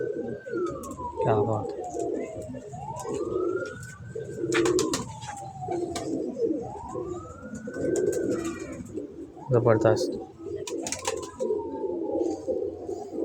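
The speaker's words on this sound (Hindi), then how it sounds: "बड़ा ही अच्छा कबूतर है दोस्त, बहुत ही अच्छा कबूतर है।" A pigeon coos in repeated rolling phrases, close and clear, while someone talks excitedly between and over the calls.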